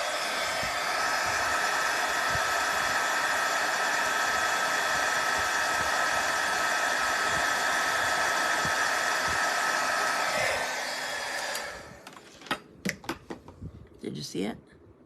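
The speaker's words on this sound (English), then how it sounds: "my embossing powder on there, and I'm gonna heat it" Heat tool melting embossing powder: a loud, steady fan-driven whoosh runs for about eleven seconds and then cuts off, followed by light handling taps and clicks.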